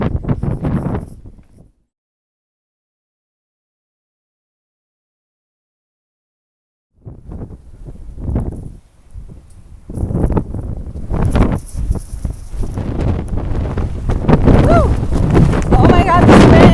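Strong wind on a Pacific Crest Trail hiking stretch between Cabazon and the Whitewater River Basin, loud buffeting gusts that roar against the microphone after a silent gap and build steadily, with a voice mixed in.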